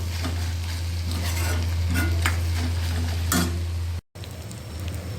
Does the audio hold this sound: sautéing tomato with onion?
yes